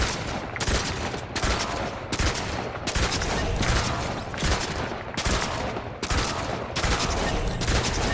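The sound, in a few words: sniper rifle shots in Fortnite video game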